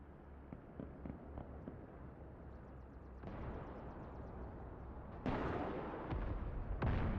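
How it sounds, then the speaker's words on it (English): In the DCS flight simulator, ground guns fire at enemy bombers overhead, a dense rumbling barrage of distant booms and crackling bursts that grows louder partway through. "The guns you're hearing are our units shooting at the enemy bombers going overhead"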